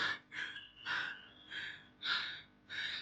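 Heavy rhythmic panting from someone climbing a rocky hill fort in the midday heat, six loud breathy gasps in a regular in-and-out pattern, close to the ear.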